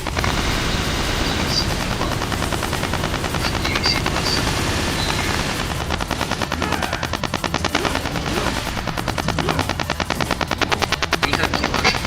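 Video game combat with helicopters and gunfire: a steady rotor drone under rapid, rhythmic machine-gun bursts that grow more prominent toward the end, loud and continuous.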